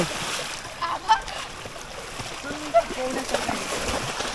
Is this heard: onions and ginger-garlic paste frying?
no